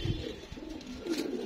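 Racing pigeons in a loft give soft, low cooing calls, faint and close, in a single short burst with no speech.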